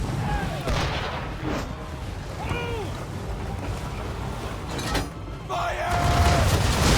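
Ship cannons firing during a naval battle in the video game Assassin's Creed 3, dense booming rumble over wind and water, with shouted voices and game sounds throughout.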